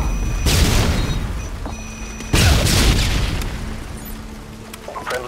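A grenade blast in a multiplayer team deathmatch video game booms loud and close, followed by a second heavy explosion and rumbling decay, with small electronic cues in between.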